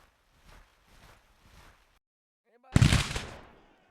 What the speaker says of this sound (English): Could go for this cannon as well.